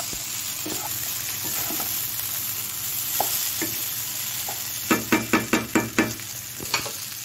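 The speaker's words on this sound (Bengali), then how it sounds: "এইবারে হাই হিটে আরও 1 মিনিটের মতো আমি একটুখানি সমস্ত উপকরণ ভালোভাবে মিশিয়ে নেব" Potato, paneer and peas sizzle in a pan over high heat, a continuous fry under occasional scrapes, then a quick run of sharp taps of the spoon against the pan.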